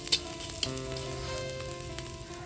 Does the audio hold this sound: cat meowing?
no